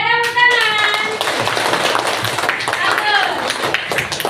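Children in a classroom clap their hands together, a busy patter of claps mixed with lively young voices talking and calling out over it.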